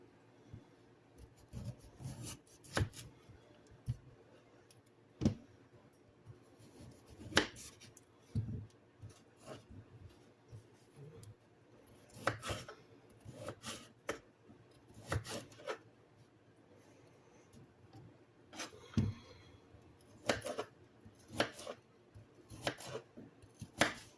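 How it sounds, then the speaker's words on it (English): Washed, dried potatoes being cut into chunks with a knife on a board, giving a series of soft, irregular thuds and slicing scrapes at close range, with pauses between cuts. "I have washed and dried these potatoes, and I'm going to cut them up into chunks."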